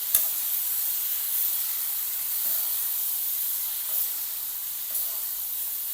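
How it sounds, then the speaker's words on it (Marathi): Maggi noodles with masala and chopped coriander hiss softly in a pan as they are mixed and fried, a steady, fairly faint sizzle with a few light scrapes and taps from the spoon. "मॅगी टाकून घ्यायची। मॅगीला मिक्स करून घ्यायचं।"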